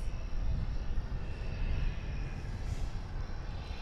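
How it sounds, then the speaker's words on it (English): An American Airlines Airbus A320 arrives at DFW airport, a faint, distant low jet rumble with a steady hiss and no talking. "American Flight 1913 arriving from Austin on an Airbus A320 is what we're looking at now."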